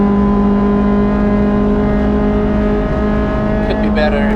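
A Honda Civic FD2 Type R engine pulls hard around the Nürburgring, a loud, steady, close-up drone with strong tonal harmonics. A voice talks over it.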